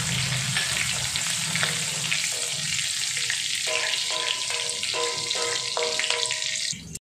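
Steady sizzling of ginger and finely chopped green chilies frying in hot oil, with occasional stirring clinks, continuous and close for several seconds before stopping abruptly.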